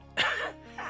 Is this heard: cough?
yes